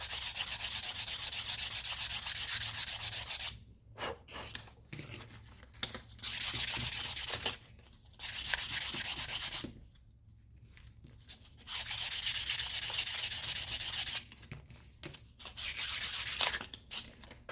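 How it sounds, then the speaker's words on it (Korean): Repeated rubbing strokes clean leftover residue from the stitching of a leather luxury bag during restoration, coming in close, steady bursts of a few seconds each with short quiet gaps between them. "그래서 이 잔여물, 찌꺼기를 제거를 해줍니다."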